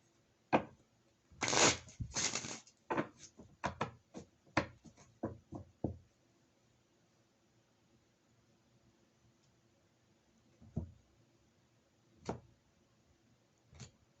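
Tarot cards being shuffled by hand, with a burst of dense riffling followed by a string of separate, sharp card taps and slaps. The action then thins out to a few soft, scattered shuffles, nearby and with no talking.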